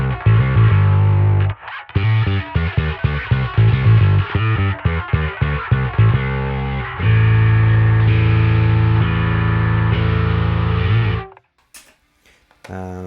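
Electric guitar played through the drive block of a Line 6 Helix LT multi-effects unit, a loud, close, distorted tone with chugging chords and sustained ringing notes, heard alone with no talking before it cuts off near the end.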